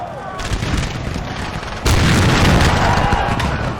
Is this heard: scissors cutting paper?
no